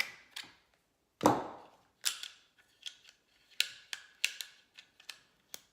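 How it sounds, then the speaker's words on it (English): Sharp metallic clicks and snaps from a P320 pistol being disassembled to pull out its fire control unit, a loud snap near the start followed by a string of irregular, crisp ticks and clacks up close. "we're going to break down and pull the fire control unit out of the gun"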